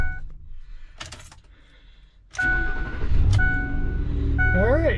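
A Chevrolet Bel Air with a 348 V8 cranks briefly and catches, settling into a loud, steady idle close by after a quiet stretch, with some speech over the running engine.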